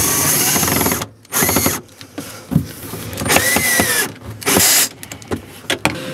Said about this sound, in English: taking the screwdriver, you screw it back in